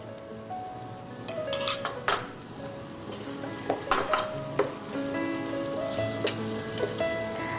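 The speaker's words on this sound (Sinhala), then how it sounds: "දැන් රත් වෙන ගී ඔයිල් එකේ ලූණු හොඳට සුදු ලූණු රත්කරපිච්ච ටෙම්පරාදුව." Onions and garlic fry in hot ghee for a tempering in a TV cooking-show kitchen, a steady sizzle with clinks of a spoon and pan mixed in, close and moderately loud, no one talking.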